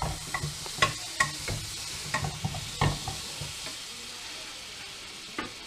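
A knob of butter sizzles in a hot frying pan on the stove, a soft steady frying hiss broken by several sharp clinks and scrapes of utensils against the pan, with no voices.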